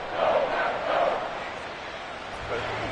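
Crowd noise from a stadium in the Madden football video game, a steady broadband roar that swells twice early on and again near the end, fairly loud with no clear speech.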